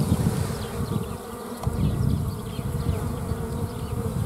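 Honey bees in spring buzz around a hive, a dense, continuous drone of many wings close by, with individual bees flitting past within the steady hum and no voices.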